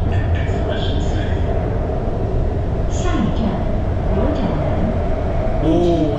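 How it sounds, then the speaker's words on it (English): A Shenzhen Metro subway train runs at speed with a loud, steady rumble and rushing roar from inside the carriage. Faint chimes and a recorded announcement sound over it. "This train is bound for convention and exhibition city."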